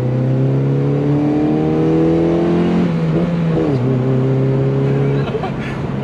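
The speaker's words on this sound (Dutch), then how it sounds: "Met het dak over klinkt het veel dikker ofzo." Ford Fiesta ST200 fitted with a Milltek exhaust accelerates with the roof open, a loud close engine note climbing through the gears with pitch drops at each shift, then easing off near the end; a voice talks over it.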